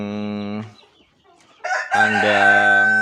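Roosters crow loudly and close in a rooster cage, one long crow, a short gap, then another crow overlapping.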